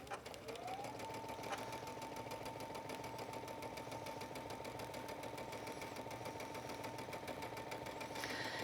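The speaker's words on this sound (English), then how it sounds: "I'm going to start sewing." Sewing machine stitching together the linings of vintage ties, a steady fast mechanical whir and needle clatter running unbroken for the whole stretch, close and even, with no talking.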